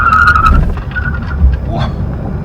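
A 2018 Chevy Volt LT electric car accelerating hard from a stop with a tire briefly spinning, giving a loud close motor whine with a brief tonal squeal and road rumble.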